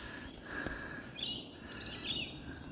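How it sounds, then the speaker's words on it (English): Agitated birds near a climber up in a tree doing trimming work give repeated sharp chirps and harsh calls at a moderate distance over a quiet, steady outdoor background. "The birds are a bit angry at me today."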